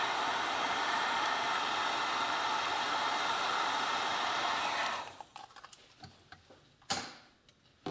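A heat gun blows steady, loud airflow onto a carburetor part from a Yamaha YL1 motorcycle for about five seconds, then shuts off, leaving faint ticks and clicks.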